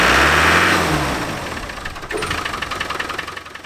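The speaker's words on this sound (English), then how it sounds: "The engine seemed to be starved of fuel or air when it came down off the revs." A Land Rover Defender 300 Tdi diesel engine with a fitted boost controller revs up loudly, then drops off the revs into a lower, uneven, pulsing idle-like rumble, heard alone.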